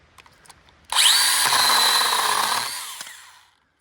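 A Stihl GTA 26 cordless power pruner cutting through a 1-inch branch near its base: a sudden high-pitched motor whine and chain buzz lasting about two seconds, close and alone, before winding down to quiet.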